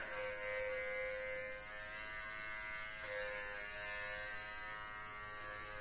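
An electric facial cleansing brush buzzes steadily during an evening skincare routine, a continuous close hum that shifts pitch slightly partway through, with no talking.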